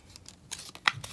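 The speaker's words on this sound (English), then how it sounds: "I'm just gonna take my scissors and cut out the little one" Scissors snip through folded paper while making corner bookmarks, a few short crisp cuts in quick succession, close and fairly quiet with no talking.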